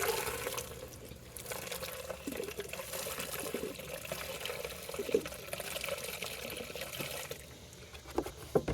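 Gasoline trickles and splashes from a leaky plastic gas can, a soft uneven pour with small drips and spatters, close by and fairly quiet.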